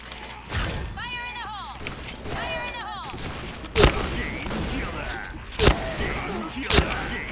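Gunfire from a zombie-shooting round of the video game Point Blank: three sharp, loud shots spaced a second or two apart, ringing out amid game noise while a voice talks over them.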